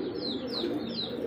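Farm pigeons, among them a female, coo in a low, steady murmur while three thin, rising whistle-like calls sound one after another above it, close by and without speech.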